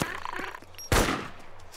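A loud burst of gunfire in the survival shooter DayZ Epoch on ARMA 2 erupts as a sharp, close crack with a short echoing tail, following quieter rhythmic thumps.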